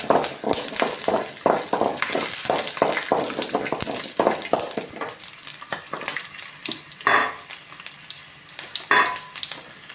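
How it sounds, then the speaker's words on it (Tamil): Peeled onions added to roasted chillies frying in a pan for a thorny drumstick leaf chutney: loud close crackling sizzle with rapid stirring scrapes, easing into softer frying and a few later stirs. "மிளகாய் வறுபட்டு வந்ததும் உரிச்சு வச்ச வெங்காயத்தை சேர்த்துறோம்"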